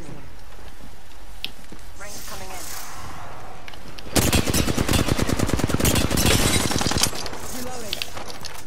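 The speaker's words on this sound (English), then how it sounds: "I'm gonna shoot this one." Rapid automatic gunfire from an Apex Legends match, a dense burst of repeated shots lasting about three seconds and standing out loudly over quieter game sound before and after.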